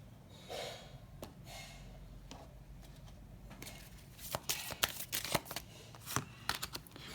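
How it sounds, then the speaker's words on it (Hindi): Tarot cards are shuffled by hand in a quiet room, soft riffling and papery slaps building into a quick burst of snapping card sounds toward the end. "मैं फिर से शफल करूँगी."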